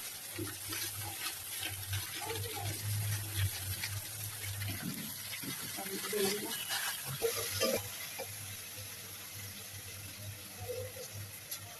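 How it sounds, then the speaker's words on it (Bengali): Potatoes for aloo bhaji fry in a pan, giving a steady sizzle with occasional stirring scrapes and watery splashes, moderately loud and close, with no talking. "আলু ভাজি, হ্যাঁ আলু ভাজি হচ্ছে।"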